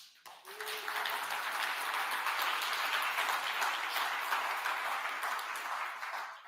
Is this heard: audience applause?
yes